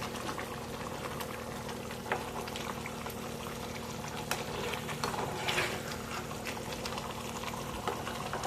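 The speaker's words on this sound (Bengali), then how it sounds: "গ্রেভিটা আমার ফুটে গেছে," Masala gravy for paneer bubbling at a boil in a pan, a continuous low burbling and popping, close and fairly quiet, with a few faint clicks.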